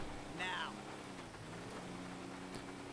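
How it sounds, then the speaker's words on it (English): Rain falling in the GTA 5 video game, a soft steady hiss of drops on surfaces, faint and continuous, with a brief chirp-like sweep early on and a low background hum. "And it's still raining."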